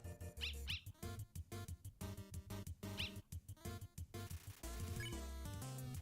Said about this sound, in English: Lesser dog's barking excitedly.